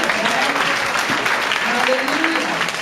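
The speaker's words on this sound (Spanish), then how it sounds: "aplauso fuerte al Señor." Congregation applauding in a church service, a dense steady wash of clapping mixed with voices calling out and cheering throughout, loud and close.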